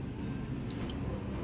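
While shoes are cleaned with bar soap and water, a few faint drips and soft wet squishes of liquid sound close by against a quiet background.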